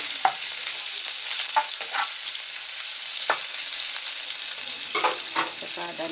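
Fenugreek seeds frying in hot oil in a pan, a loud, steady crackling sizzle broken by repeated clicks and scrapes of stirring, close up and without speech.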